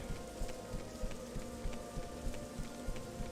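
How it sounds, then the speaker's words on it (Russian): Steady rain falls in the video game Morrowind with the Tamriel Rebuilt mod, a dense, even hiss with a faint, regular pattering pulse and no voices. "Дождь все еще идет, но, по крайней мере, утро и светло теперь."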